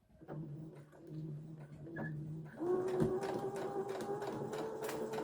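A sewing machine runs a straight stitch on a tote bag, its rapid mechanical ticking steady and close, starting softly then picking up speed after a short pause.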